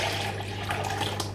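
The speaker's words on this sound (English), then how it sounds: "So here's my ice cream container. I'm just going to pour it in" Liquid is poured steadily into an ice cream container in a hotel room, a continuous close splashing and trickling with no speech.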